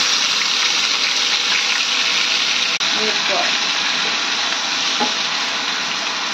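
Green chillies fry in hot oil for a baby potato fry, giving a loud, steady, dense sizzle throughout with a brief dip near the middle and a few soft knocks underneath.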